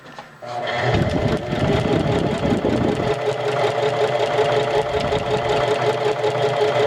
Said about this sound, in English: I'm letting the sewing machine take it itself